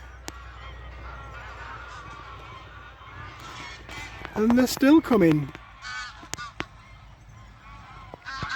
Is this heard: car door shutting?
no